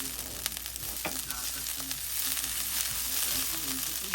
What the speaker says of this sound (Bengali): ঘি দিয়ে এই পেঁয়াজটাকে এইভাবে ভেজে নেবেন